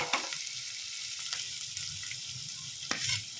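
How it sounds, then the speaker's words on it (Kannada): Onions and tomato fry in a pan for a leftover chapati oggarane, a steady close sizzle with a few sharp stirring scrapes and spatula knocks, no talking. "ಚೆನ್ನಾಗಿ ಈರುಳ್ಳಿನ ಫ್ರೈ ಮಾಡ್ಕೊಳ್ಳಿ"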